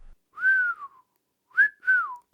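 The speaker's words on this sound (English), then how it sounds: "I whistled." Someone whistles three clear notes, one long tone, then a pause, then two quick ones, near and alone in silence.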